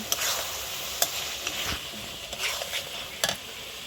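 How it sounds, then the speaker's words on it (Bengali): Chili and cumin powder being stirred in a hot pan for a goat meat curry: a steady sizzle runs underneath, with sharp scraping and clinking strokes of a spatula against the pan. "এখানে মরিচের গুঁড়া দিয়ে দিচ্ছে, এটা জিরার গুঁড়া দিয়ে দিচ্ছে। এখন নাড়াচাড়া করে নেবে।"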